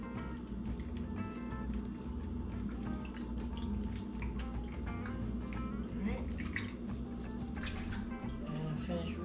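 Water runs continuously from a tap while sheepshead fish fillets are rinsed, a steady splashing flow with small drips and clatter on top, close by and fairly quiet, with a constant hum beneath.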